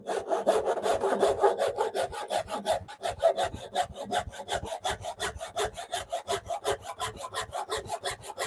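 A Japanese pull saw cuts through wood in quick, rhythmic rasping strokes, about three per second, close and clear with no talking.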